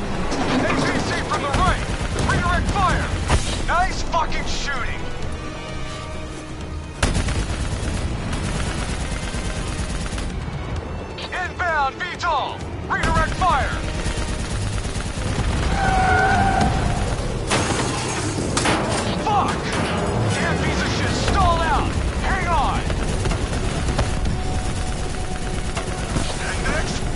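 Sustained gunfire aimed at a VTOL aircraft in the video game Call of Duty Black Ops 3, loud and dense, mixed with explosions, engine roar and shouted voices throughout.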